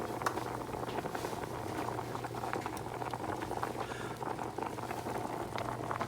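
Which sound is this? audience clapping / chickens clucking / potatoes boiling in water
potatoes boiling in water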